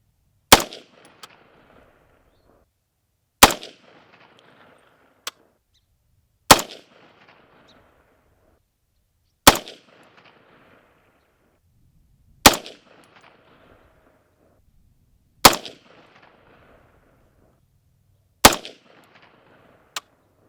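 A CMMG rifle fires 150 grain boat tail FMJ rounds outdoors, giving sharp, loud single shots spaced evenly about three seconds apart. Each crack is followed by a short echo, with quiet between shots.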